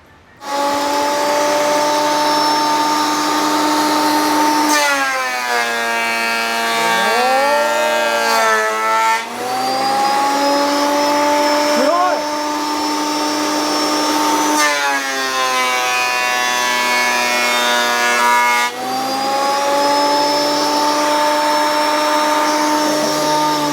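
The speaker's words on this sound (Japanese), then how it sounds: "これがマキタの掃除機がつながるそうなので入れて試運転やってみましょう" A Makita vacuum cleaner hooked to a dust cover on a RYOBI AP-10N automatic planer, running loud and steady with a whining, siren-like tone that rises and falls in several long passes, with no talk over it.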